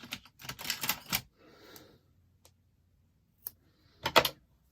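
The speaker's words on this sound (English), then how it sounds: "Get some sharper scissors" Paper is cut with scissors, a quick run of crisp snips, then a soft rustle, a lone click and a final pair of sharp snips, close and fairly quiet with no talking.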